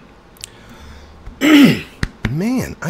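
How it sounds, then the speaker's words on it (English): A single rough cough bursts out after a quiet stretch, followed by a short voiced sound and a few more throaty noises close to the mic. "I'm just coughing."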